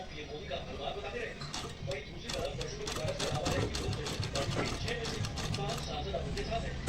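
A sewing machine stitches a flat collar, its thread tension set at 2, running in a steady, fast ticking rhythm at close range while someone speaks over it.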